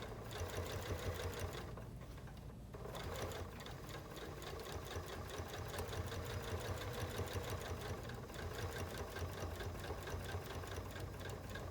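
A sewing machine stitches binding onto a quilt, running in a steady rapid mechanical hum with a brief easing of pace partway through.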